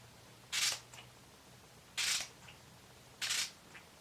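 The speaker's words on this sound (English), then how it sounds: "the last step is to set my face with the Photo Focus Matte Finishing Setting" Three short hissing bursts of Wet n Wild Photo Focus Matte Finishing Setting Spray, spaced evenly about a second and a half apart, faint and close in a quiet room.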